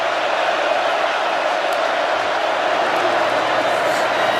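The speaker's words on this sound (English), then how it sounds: "Crowd noise is a factor." Steady roaring stadium crowd at a Florida vs Tennessee college football game, a dense continuous wash of noise without breaks, with a commentator's voice heard over it.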